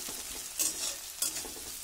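Onions fry with salt in hot oil, a steady quiet sizzle broken by two brief stirring scrapes, close and without talking.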